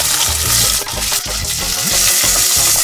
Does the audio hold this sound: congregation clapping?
no